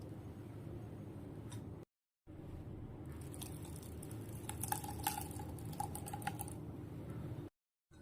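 A spoon works puffed rice batter around a bowl, giving steady wet squelching and soft scraping with light clinks against the bowl's side, close and continuous apart from two short silent gaps. No voices are heard.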